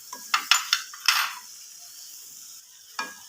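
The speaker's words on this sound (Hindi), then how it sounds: "ये मैं डाल लूँगा इसमें और इसको इस मसाले में अच्छी तरह मैं मिक्स करूँगा।" Two large onions get stirred into masala in a pan for a karela-onion dish: a quick run of spoon scrapes and clinks against the metal, then a quiet faint sizzle, and one last scrape near the end.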